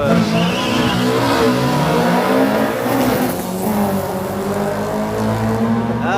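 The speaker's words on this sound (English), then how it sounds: "sounds like a misfire there." A drag car's engine roars loud and close, misfiring so its revving note stumbles and sputters unevenly rather than holding a smooth tone.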